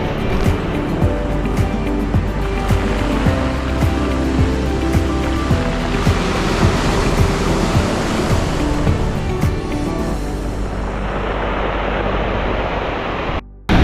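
Heavy ocean surf pounds a flattened shoreline in a big, wild swell, a continuous loud roar of breaking waves and wash that stays close and steady before easing toward the end.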